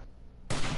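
A rifle fired at a rabbit in the video game 7 Days to Die, a single sudden loud shot that cuts in after a quiet moment and rings on to the end.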